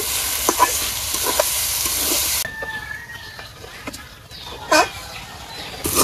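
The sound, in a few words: lentils frying with turmeric and spices in a pan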